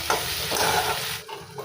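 Chopped spring onion sautéed in a pan for spicy brinjal bharta, a brief close sizzle with a soft stirring scrape.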